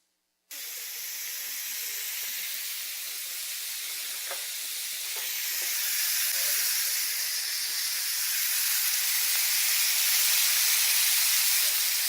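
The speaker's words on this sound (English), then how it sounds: "That's the sound of fajitas." Steady sizzling hiss of fajitas searing on a hot pan, broadband and continuous, swelling slightly louder over time with no voices.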